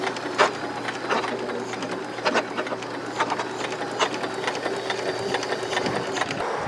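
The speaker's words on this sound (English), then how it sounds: "When operating a manual sewing machine, it's powered on by the mechanism inside." A manual sewing machine runs steadily, its mechanism whirring and clicking in a continuous mechanical rattle with small periodic knocks, close and alone without speech.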